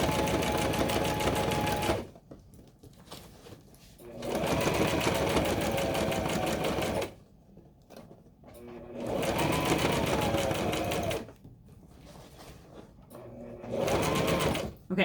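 Sewing machine stitching a tote bag seam, loud close buzzing runs of a few seconds each that alternate with short quiet pauses where a voice talks over faint handling.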